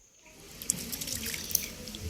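Water from a tap runs steadily into a vessel while black gram and rice are washed, with splashes and drips as the grains are stirred. The sound is close and alone, with no speech.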